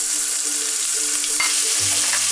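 Crumbled sausage, casing removed, frying in hot oil in a pan, a close steady sizzle with a spoon stirring and scraping briefly, no voices.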